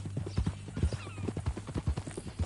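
Hoofbeats of a horse in a ranch-themed video game on PS4 clop in a steady walking rhythm, close and clear, with a brief whinny partway through and no talk.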